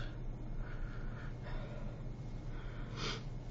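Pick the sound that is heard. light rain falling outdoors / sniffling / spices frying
sniffling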